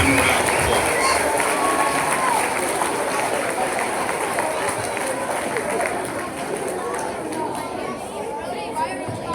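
Crowd applause fills a school gym at a sixth grade honors day ceremony, dense and continuous clapping mixed with chatter, holding steady before easing slightly toward the end.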